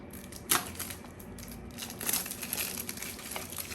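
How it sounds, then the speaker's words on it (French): A small box of diamond painting supplies is opened, with soft crinkling, rustling and a few light clicks up close, and no talking. "Donc, on va ouvrir la petite boîte."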